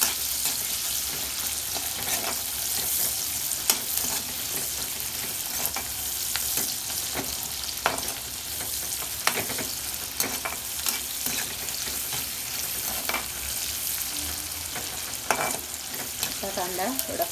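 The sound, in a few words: onion frying and being stirred in a pan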